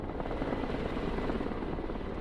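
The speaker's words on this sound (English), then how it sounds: "Bring in a helicopter with supplies" Steady, close whump and drone of a supply helicopter flying in the Broken Arrow war game, continuous rotor thrum with no speech.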